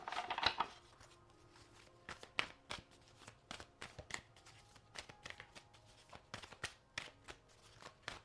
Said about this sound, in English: Giving these a good shuffle.